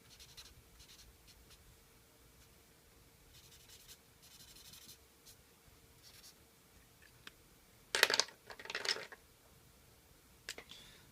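Micron pen drawing on paper, refining edges of an inked head sketch: faint, intermittent scratchy strokes near the mic, with a brief louder burst of rubbing and scratching in the middle.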